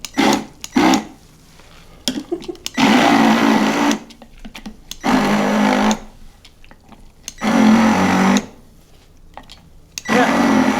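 A countertop blender chops pineapple in short pulses, four loud whirring bursts of about a second or two each separated by quieter pauses with faint clatter.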